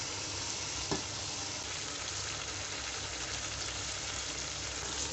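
Meat and nalli bones fry in a pressure cooker for nihari, giving a steady, close, continuous sizzle with faint crackle throughout and no talking.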